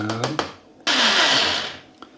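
A blender whirs loudly for about a second while mixing an eggplant and chickpea meze with pastırma and salt, preceded by a few clicks and brief rattles, then cuts off.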